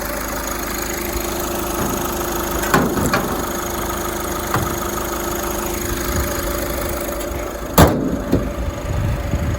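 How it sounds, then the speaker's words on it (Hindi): A diesel VW/Skoda car's bonnet is shut with one sharp, heavy slam near the end, over a steady idling engine hum. A few lighter knocks come before it. "तो मैं बोनेट लगा देता हूँ"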